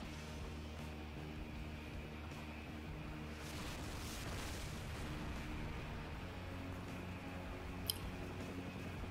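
Predator drone missiles exploding in Modern Warfare 2 during the Homeland Security Spec Ops mission, a dense, sustained roar of blasts and heavy rumble with one sharp crack near the end.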